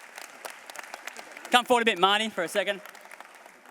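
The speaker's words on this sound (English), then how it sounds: "Let's get a round of applause for Marty" A crowd claps in a burst of applause at a business awards ceremony, with a voice talking over the clapping and continuing as it fades.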